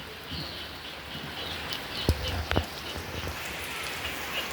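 Heavy rain pours steadily as a constant hiss, with a few sharp thuds and knocks standing out near the middle and no talking.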